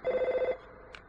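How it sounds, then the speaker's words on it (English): A telephone rings in the SNES game Earthbound: a loud, rapid electronic trill pulsing steadily for about half a second, then breaking off, with a faint short blip just after. "Oh, and we get another phone call."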